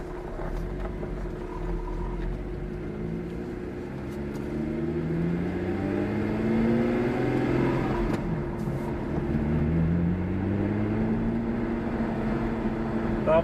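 A 2011 Lotus Evora heard from inside the cabin while driving, a steady engine drone rising and falling through gear changes, with road and wind noise underneath and no talk.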